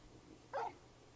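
Torgal, a large hound-like dog in the Final Fantasy XVI video game, lets out a single short bark midway through, fairly close and clear against a quiet background hum.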